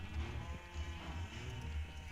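Sheep bleat in the Minecraft video game, faint and partly buried under a steady low farm-animal ambience, with a few soft pulsing calls over about two seconds.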